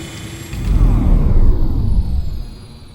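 A rocket engine stalling at launch in a short film: a loud, deep rumble surges, then sinks with a falling pitch sweep, fading out over about three seconds.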